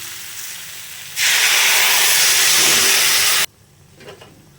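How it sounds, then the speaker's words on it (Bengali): Water poured onto hot, dry-fried vegetables in a pan for a rohu fish curry with green jackfruit and drumsticks, bursting into a loud, sustained hiss that cuts off abruptly after about two seconds, then a quieter simmer. "বেশ শুকনো শুকনো করে এখন আমি জল দিয়ে দেবো"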